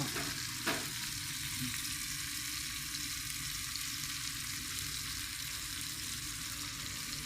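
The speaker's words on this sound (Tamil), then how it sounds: "பாருங்கள் மக்களே, ஃபிஷ் ஃப்ரை பண்ணுறேன்." Steady oil sizzle and crackle of fish frying in a pan, continuous and close, with a brief clatter near the start.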